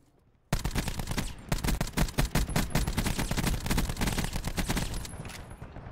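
Sustained automatic gunfire from a shooter video game, a rapid continuous stream of shots bursting in suddenly after a quiet moment, loud and close, running steadily to the end without talking.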